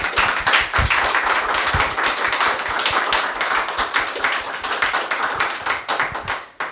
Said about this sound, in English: Can we give him a hand of applause?